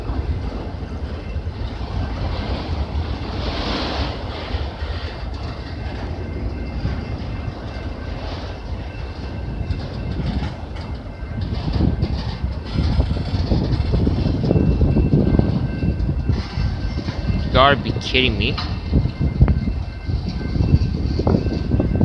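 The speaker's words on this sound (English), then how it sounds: "I dislike it when trains come to a stop in the middle of the crossings." A train slows and stops at a railway crossing in Ontario in winter, a low rumbling and rolling drone with wind noise, ending in a brief high squeal, while a person speaks briefly.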